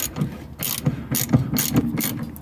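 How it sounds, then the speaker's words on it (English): A hand ratchet with a 17mm socket working a Volvo rear shock absorber bolt, giving repeated close clicking bursts in a steady back-and-forth rhythm, about five strokes. "a normal ratchet is absolutely fine"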